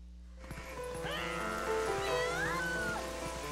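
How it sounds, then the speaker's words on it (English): Several cats meowing in the video game The Legend of Zelda: Twilight Princess HD, overlapping rising and falling cries over steady game background sound, fairly close and moderately loud. "A bunch of cats are following me."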